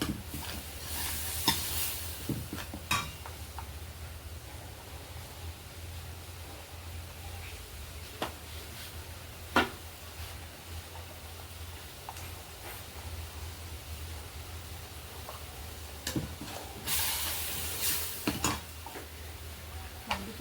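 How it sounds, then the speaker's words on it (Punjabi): Red chili, garam masala and turmeric sizzle steadily in hot oil in a pan for a bottle gourd curry, a low continuous frying hiss broken by occasional clicks and scrapes of stirring. "ਆਪਾਂ ਹੁਣ ਇਹਨਾਂ ਨੂੰ ਮਸਾਲਿਆਂ ਨੂੰ ਚੰਗੀ ਤਰ੍ਹਾਂ ਭੁੰਨ ਲਾਂਗੇ"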